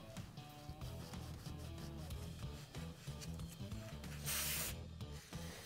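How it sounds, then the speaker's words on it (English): Dirt bike kick starter parts are cleaned close up with a rag, contact cleaner and Scotch-Brite: continuous rubbing and scrubbing, then a short, loud spray burst near the end. "Then clean all the parts using a rag, contact cleaner, and some Scotch-Brite."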